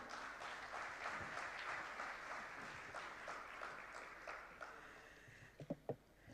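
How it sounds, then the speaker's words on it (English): Conference audience gives a round of applause, a broad, even patter of many hands heard from a distance and fairly quiet, ending with a few louder close taps or thumps. "Ladies and gentlemen, a round of applause"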